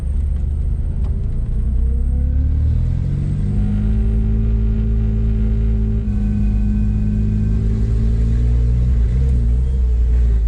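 A K-swapped Porsche engine idles with a steady low rumble, loud and close throughout, its pitch wavering and bucking slightly with small surges, and a faint whine from a noisy power steering pump rides above it.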